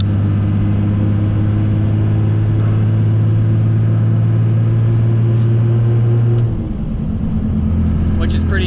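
A Cummins diesel truck cruising steadily at 60 mph, heard from inside as a loud, constant low engine drone and road rumble that shifts slightly in pitch near the end.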